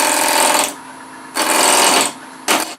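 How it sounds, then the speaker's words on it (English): Wood lathe cutting an irregular block with a spindle roughing gouge, in three loud bursts of harsh, chattering cutting noise, each dropping back to a quieter spinning hum between passes. "Using a spindle roughing gouge, anchor, ride the bevel, lift the handle to cut."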